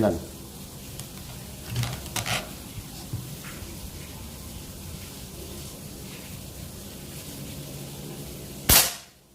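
A 40 cm folding army-style PCP mini air rifle at 3000 psi fires a single sharp, loud, close shot near the end, after several seconds of quiet background hiss with faint handling noises.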